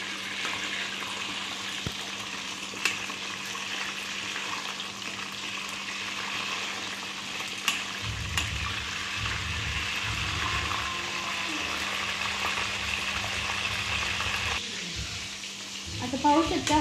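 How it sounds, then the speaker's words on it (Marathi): Brinjal pieces fry in hot oil with a steady, dense sizzle and crackle that runs throughout, with brief stirring clatter near the end. "आपल्याला व्यवस्थित ही वांगी तेलामध्ये परतून घ्यायचे"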